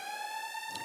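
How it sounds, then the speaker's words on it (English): A siren-like alert tone rings out as a brief steady electronic wail with strong harmonics, close and clear with no speech. "Sirens up."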